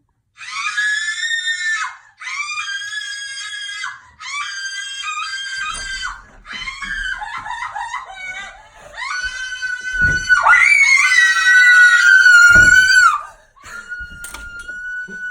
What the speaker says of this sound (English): Start screaming.